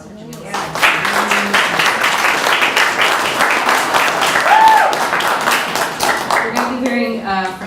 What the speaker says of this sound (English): Can we have another round of applause for Jamila?